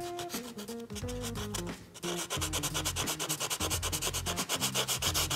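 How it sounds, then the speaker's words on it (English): Buffing block rubbing ink off a stamped metal cuff bracelet, using its corner to reach into the crevices, making steady rhythmic scrubbing strokes that are close and continuous. "I'm using the corner of the buffing block just because it gets into the little crevices a little bit easier."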